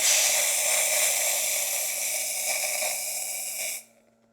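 The steam wand on a La Marzocco Linea Micra espresso machine purges with a loud, steady dry hiss for nearly four seconds, then cuts off abruptly into near silence.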